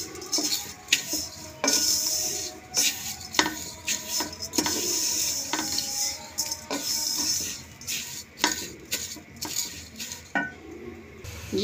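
Fine National-brand vermicelli being fried and stirred in a pan, with a soft sizzle under repeated metallic scraping and clinking of a utensil against the pan, close and fairly loud.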